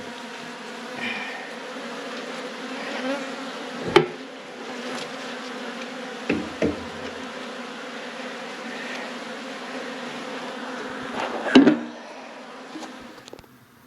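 Bees swarm and buzz in a steady, moderately close drone during a beehive cutout, broken by a few knocks and thuds from the work.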